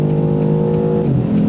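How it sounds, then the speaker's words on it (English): A 2023 BMW M850i convertible with the N63 engine pulls hard under acceleration, a loud, close, droning engine note with layered harmonics that holds steady and shifts pitch briefly near the end. "My word, that N63 engine just keeps hauling and hauling"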